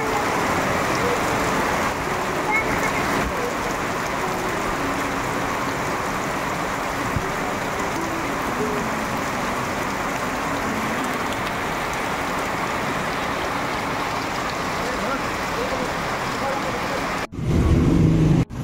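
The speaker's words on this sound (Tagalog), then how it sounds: "grabe lakas ang ulan." Heavy rain pours down in a dense, constant hiss of drops on surfaces, loud and steady, ending with a brief burst of nearby noise.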